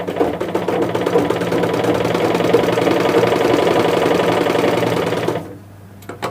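A sewing machine stitches fabric in a steady, fast, loud mechanical whir for several seconds, then stops abruptly, leaving faint clicks.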